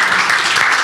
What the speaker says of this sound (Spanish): Un aplauso a Marcia